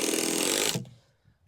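A power driver runs a 100mm torque screw into timber while building a garden office, a loud, steady high whine lasting under a second before it cuts off abruptly and fades to quiet.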